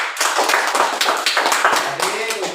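A class of students clapping hands in a classroom during a lesson, dense and fairly loud clapping with a voice or two mixed in.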